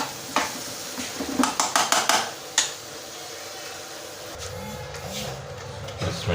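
Serving spoon scraping and clinking against a cooking pot while Arabic mugalgal is dished out, a quick burst of sharp metallic knocks early on, then softer scraping and clatter, close by with no talk.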